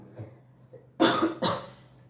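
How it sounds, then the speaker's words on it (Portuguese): Two sharp coughs burst out close by, a pair of loud bursts about half a second apart after a quiet stretch with faint background noise. "Eita, tosse, não quer deixar a gente falar"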